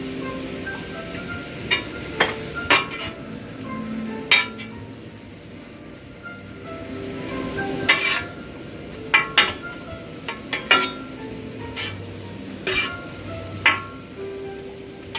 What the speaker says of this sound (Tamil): பச்சை மிளகாய் 3 வச்சிருக்கோம். போட்டுட்டோம். நல்லபடியாக குழப்பி விடுவோம்.